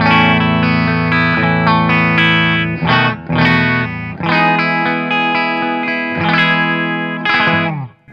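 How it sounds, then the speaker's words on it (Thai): An electric guitar plays a clean tone through a Boss Katana amp with a Boss OS-2 overdrive pedal bypassed, ringing out loud, sustained chords alone, with a few short breaks between strums. "เสียงคลีนก่อนนะเป็น bypass ของ Boss ก่อน"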